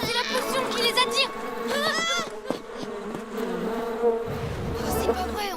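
A swarm of bees buzzes loudly and continuously in an animated cartoon, rising and falling in pitch over children's voices talking.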